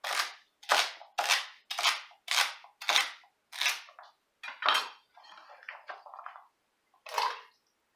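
Celery ribs roughly chopped with a knife on a cutting board, a steady run of about nine crisp close chops, then softer scraping and a final chop, no talking.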